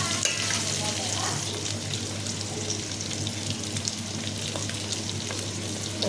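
Vegetable pieces stewing and frying in oil in a pan, giving a steady close sizzle with faint stirring and scraping throughout, no voices.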